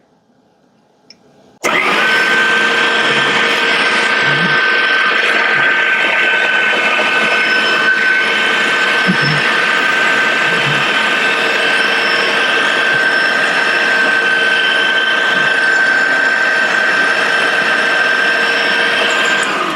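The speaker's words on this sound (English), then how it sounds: "Push the meat down, pull this casing off, and fill it up." Deer sausage meat being pushed through a mechanical stuffer into casings, a steady continuous grinding, ratcheting drone that starts abruptly and runs loud and unbroken for the rest of the clip, with no talk over it.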